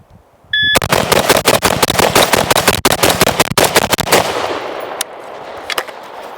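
Rapid AR-15 rifle fire during a timed shooting drill with a polymer lower receiver: a loud, close, fast string of sharp shots for several seconds, then a few scattered final shots as it quiets.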